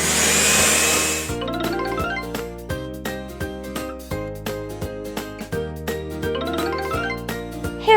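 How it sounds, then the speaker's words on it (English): A hair dryer blows loudly for about a second, then cuts off and a light, tinkling music tune takes over. "Hair dryer."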